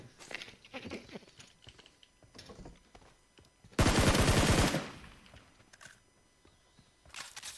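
Video game gunfire: a dense, loud burst of rapid automatic shots lasting about a second, surrounded by quieter clicks and scattered game noises, with no voices.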